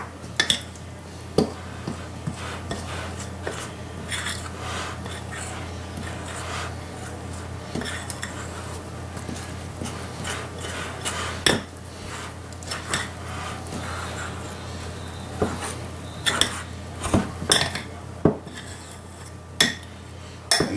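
Whole wheat dough ingredients stirred together in a bowl into a loose, wet ball, heard as close scraping and rubbing with scattered clinks of a utensil against the bowl.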